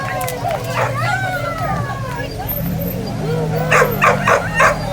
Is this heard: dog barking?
yes